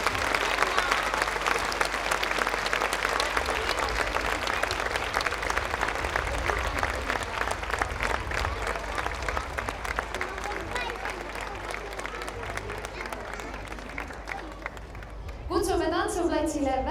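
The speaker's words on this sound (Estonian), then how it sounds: "Aplaus võimlejatele!" Sustained applause from an audience at a gymnastics festival in Tartu, dense steady clapping filling the space, with crowd noise and voices mixed in and a brief louder burst near the end.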